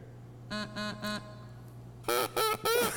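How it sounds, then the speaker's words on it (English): Ducks quacking nearby in two bursts of three calls each, loud and clear over a steady low hum. "there's some ducks coming"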